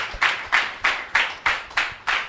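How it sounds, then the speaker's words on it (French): Slow, regular hand claps from an audience on a televised magazine programme honouring the Beninese army, about seven even beats in steady rhythm, fairly loud and close, with no talk over them. "Sous vos applaudissements, s'il vous plaît, merci."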